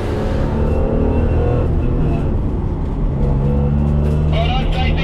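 Endurance race car built from a kit of parts circling the Sepang racetrack, engine droning at steady revs with shifting tones, close and loud, with a brief rising whine near the end.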